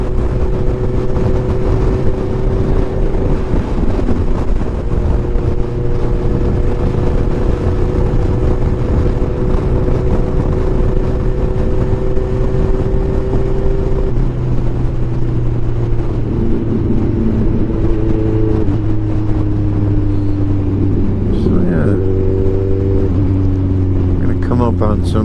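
A 2016 Kawasaki Ninja 1000 motorcycle rides through city traffic in Oswego, Illinois, its engine droning steadily with shifting pitch and wind rush throughout, while someone talks over it.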